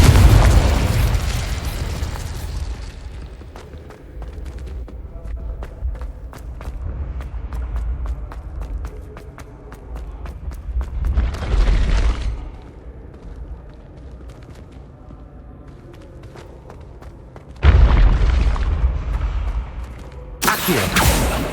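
Incendio and Confringo spells from Hogwarts Legacy erupt in loud booming blasts, with a burst near the start, another around the middle and two more toward the end, and crackling bursts between them.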